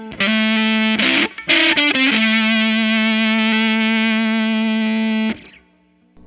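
An electric guitar runs through a fuzz pedal into a loud Fender Blues Jr amp, a few choppy distorted strums and then one long buzzing sustained chord that cuts off abruptly.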